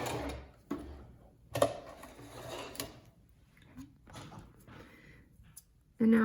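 A sewing machine runs a basting stitch through a fabric sewalong project with a steady mechanical whir and clatter, stopping and starting between a few sharp knocks, with a person speaking intermittently nearby.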